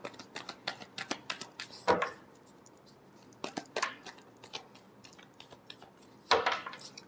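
Tarot cards shuffled by hand in a rapid patter of crisp flicks and riffles, close and fairly quiet, in a few bursts separated by short pauses.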